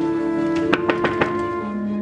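Four quick knocks on a door, fairly close and firm, spaced about evenly over a steady low hum, with no voices during the knocking.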